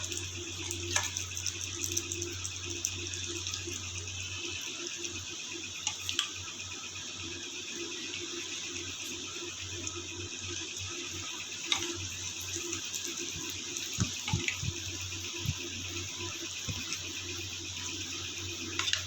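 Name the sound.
prawns frying in hot oil for fried rice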